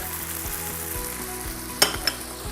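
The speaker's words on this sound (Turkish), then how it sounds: "şimdi etimizi bir süre kavurduktan sonra içerisine soğanımızı ekliyoruz" Meat sizzles in a pan with onions, peppers and garlic for a Turkish shepherd's kavurma, a steady close frying hiss with a couple of brief clinks of stirring, no talking.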